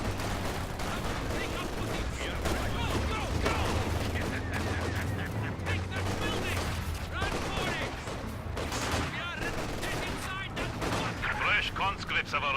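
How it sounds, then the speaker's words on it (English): Enemy gunfire and artillery hit a headquarters in a war strategy video game, with dense continuous rattling shots and booming blasts throughout, loud and close, partly under a spoken game announcement. "Our headquarters is taking enemy fire."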